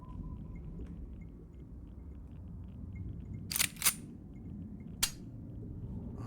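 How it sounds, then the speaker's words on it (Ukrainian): Three sharp flare gun shots in the submarine game Sonar Shock, a pair close together then a single one, over a steady low rumble; no speech. "Flare gun."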